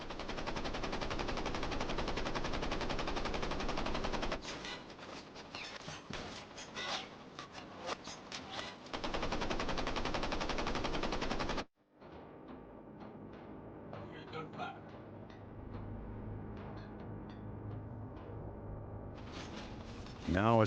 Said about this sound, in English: the convoy's flagship begins to fire on the submarine from just 500 yards away